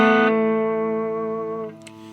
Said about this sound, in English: I am playing my Epiphone Gold top and it's going into a Vox